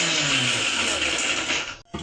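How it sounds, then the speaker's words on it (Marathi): A mixer grinder blends chillies, garlic and ginger into a paste with a steady loud whirring roar, close up, then cuts off briefly near the end before restarting. "ही वाटण करून आता मी मिक्सरवरती"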